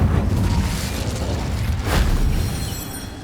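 An Incendio fire spell in Hogwarts Legacy erupts with a loud, sustained whooshing roar of flame, with a brief swelling burst near the middle before tapering off, close and heavy with low rumble.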